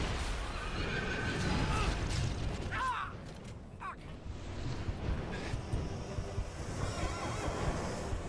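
A pony neighs in the video game Shadow Warrior, a loud whinny rising out of a dense, roaring backdrop of constant noise, with another shorter cry following a moment later.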